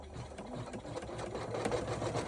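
A sewing machine stitches a wide tack down across elastic on a pouch, a fast steady mechanical whir of needle strokes running close and continuous, with no talking.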